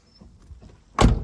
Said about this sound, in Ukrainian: Дверки тихесенько закриваються